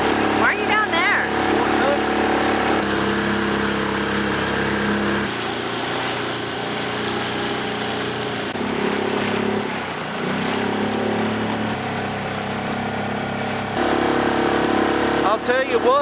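A small outboard engine on an old sailboat's tender runs roughly and strains, a steady close motor drone with uneven dips, while people talk over it.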